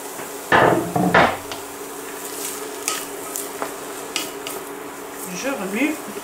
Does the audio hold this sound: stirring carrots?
yes